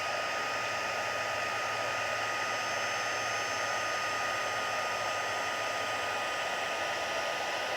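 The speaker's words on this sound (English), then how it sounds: "I'm going to get my heat tool out here" An embossing heat gun blows hot air over a Stampin' Up pie card, a loud, steady, unbroken whooshing roar held close for the whole stretch with no voices.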